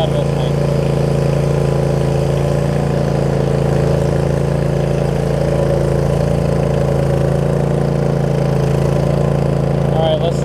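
Troy-Bilt Mustang zero-turn mower engine running steadily during a ride, its muffler having fallen off, giving a loud, continuous drone that never drops out.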